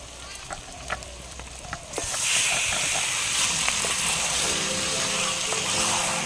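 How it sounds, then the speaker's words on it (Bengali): Chicken pieces dropped into hot oil with fried onions for dhaniya chicken, a loud, steady sizzle and hiss that jumps up after a quieter start and holds close and continuous. "পেঁয়াজের সঙ্গে চিকেনগুলো হালকা ফ্রাই করে নেব"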